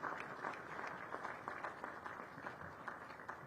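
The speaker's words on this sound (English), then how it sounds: "Let's give a round of applause to His Excellency and Mama Janet." An audience at a development finance summit applauds, a short burst of dense, even clapping heard at a distance and fairly faint.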